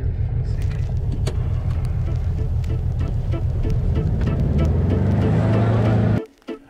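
A Volkswagen car engine idles steadily, close and loud, with a rising rev toward the end before it cuts off abruptly; no talk.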